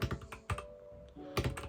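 Typing on an Epomaker EP84 mechanical keyboard, with a few close, crisp key clacks in small irregular clusters and brief gaps between them.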